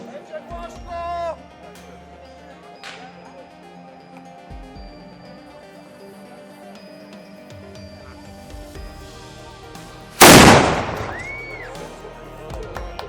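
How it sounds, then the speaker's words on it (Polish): Medieval bombard cannon of fairly large calibre fires a single shot at an artillery show, a sudden loud close boom that decays over a couple of seconds, following a stretch of talk and crowd murmur. "A przed nami kolejna bombarda o nieco większym kalibrze."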